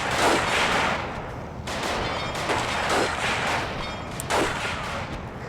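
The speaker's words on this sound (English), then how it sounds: "They look like they're firing 3-round bursts" Gunfire from M2 carbines in a Steel Division 2 match: dense, continuous bursts of rifle fire layered with distant artillery booms, loud and overlapping throughout with no clear gaps.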